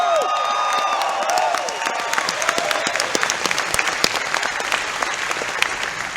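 Audience applause at a Les Brown motivational event at Vemma Focus 2015, a crowd clapping loudly and steadily with scattered sharp claps standing out across the stretch, an opening whistle or cheer fading early.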